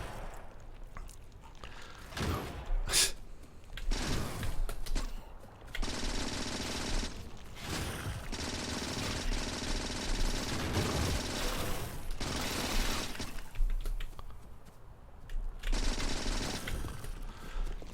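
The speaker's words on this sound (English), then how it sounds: "Now I at least have a turret that works." Automatic gun turrets in the Factorio video game fire in sustained bursts of rapid, rattling shots, loud and dense with short breaks between volleys and no talk over them.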